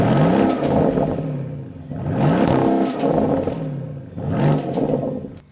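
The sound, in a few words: car engine revving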